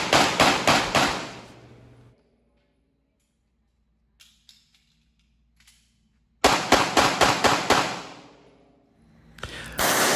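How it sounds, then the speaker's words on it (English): Handgun shots during practice at a gun club, two loud rapid strings of about six sharp cracks each, split by a long near-silent gap with a few faint clicks, then more firing begins at the end. "We shoot 2 hands, right hand, left hand, so you get that single-handed shooting and the movement in there"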